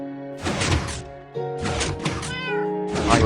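A cat meows three times, loud, close and drawn out, with a soft thump between the cries.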